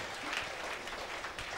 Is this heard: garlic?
no